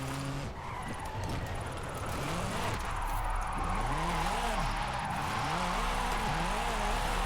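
A drift car in a racing video game holds its engine on the rev limiter, a loud continuous buzzing drone that stutters and wavers as the revs bounce against the cutoff.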